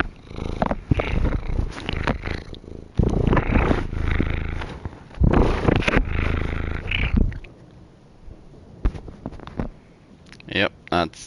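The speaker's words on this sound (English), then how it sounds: "that's the cat" A cat purring close and loud in steady rumbling bursts, with scratching and rustling nearby, then fading to quiet near the end.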